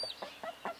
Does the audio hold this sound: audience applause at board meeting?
no